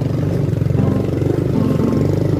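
Motorcycles passing on a mountain road, a steady loud engine drone with low rumbling throughout and no talk over it.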